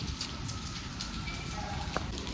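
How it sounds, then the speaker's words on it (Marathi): Constant rain patters close by, with scattered drops ticking sharply over the steady wash. "अर्धा तास झालं पाऊस चाललाय"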